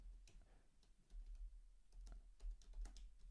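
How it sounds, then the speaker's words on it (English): Typing on a computer keyboard, faint irregular clicks and key taps in short bursts over a quiet background. "Actually, let me just type it."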